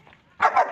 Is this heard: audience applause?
no